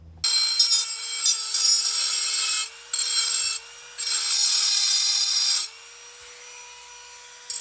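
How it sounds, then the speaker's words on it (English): Tin snips cutting sheet metal in a circle around a brake hub during a big brake kit install on a 5th gen 4Runner, giving steady loud rasping scrapes in three long bursts with short pauses between them. "I'm going to come back through with the tin snips and clean a perfect circle all the way around"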